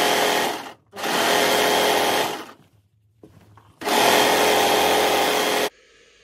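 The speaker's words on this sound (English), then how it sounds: "So we're going to start by sewing the side seams." Sewing machine stitching the side seams of a shirred dress: three loud, close bursts of rapid whirring, with short silent pauses between them.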